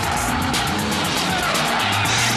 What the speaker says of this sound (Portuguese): lá vem vindo o Christian Tsuda, com o seu vermelhinho aí, Nissan SX 180 de 250 cavalos